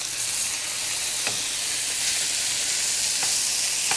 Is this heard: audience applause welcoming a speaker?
no